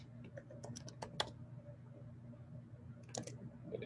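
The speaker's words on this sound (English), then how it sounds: "Let me see if I'm typing that correct." Someone types on a computer keyboard while entering code in a terminal. Scattered, faint key clicks come in short bursts over a low, steady room hum.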